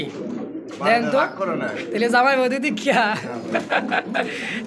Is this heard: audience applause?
no